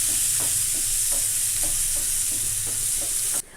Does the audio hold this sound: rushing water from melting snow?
no